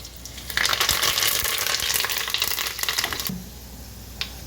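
Curry leaves hit hot oil for upma and burst into a loud, steady crackling sizzle that carries on for about three seconds before dropping to a softer, faint frying hiss.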